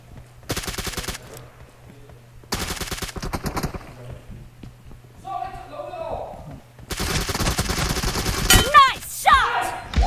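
Bursts of rapid automatic gunfire crackle in a BGMI team deathmatch game, three separate volleys separated by pauses, with short voice chatter in between and near the end.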